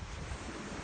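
Ocean surf on the North Shore near Boston washes in steadily, a broad continuous roar of breaking waves with wind buffeting the microphone throughout.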